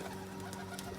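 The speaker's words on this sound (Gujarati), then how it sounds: "હવે આ છે ને કબૂતર અત્યારે ઉડાડવાના છે" Domestic pigeons kept for flying give soft, faint coos and rustles from nearby, quiet and brief with no talk.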